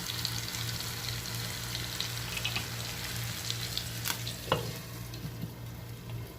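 Tomato and green chili sizzle and fry steadily in a pan for an Assamese-style mustard fish curry, with a constant crackling hiss, a low hum beneath, and a few stirring scrapes midway.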